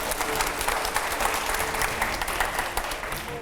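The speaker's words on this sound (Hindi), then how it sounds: "पहले तालियां हो।" An audience at a televised rapid-fire celebrity interview applauds, with dense, continuous clapping from a sizeable crowd that stays fairly loud and steady for about three seconds.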